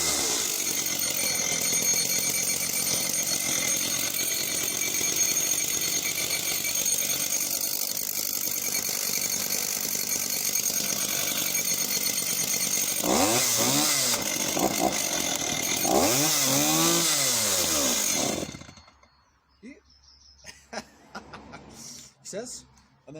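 A Solo 654 semi-pro 54cc German chainsaw runs loud and steady, its engine note rising and falling through several revs before cutting out, leaving faint handling noises afterward.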